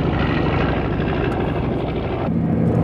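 Vintage military propeller aircraft, a C-47 in full military markings, droning loudly and steadily overhead at an international air show.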